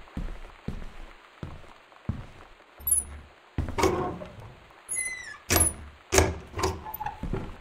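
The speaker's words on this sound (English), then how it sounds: "The reason why these cupboard doors are so loud." Cupboard doors in the game Gone Home open and close in a string of loud, close wooden thunks and knocks, with short clattering bangs and faint squeaks among them.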